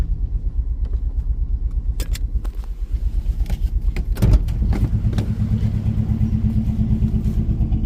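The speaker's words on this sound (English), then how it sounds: "You can hear it's on 3 cylinders." An idling car engine running on three cylinders rumbles unevenly with a rough, lumpy low throb, a clunk midway, then continues loping steadily close by.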